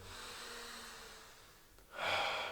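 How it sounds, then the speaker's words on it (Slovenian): Deep deliberate breathing exercise, a slow drawn-out breath followed by a louder, rushing inhale toward the end, close and alone with no talk. "prosim trenutek za nekaj horizontalnih vdihov"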